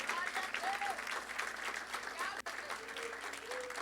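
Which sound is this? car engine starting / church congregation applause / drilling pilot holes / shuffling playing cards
church congregation applause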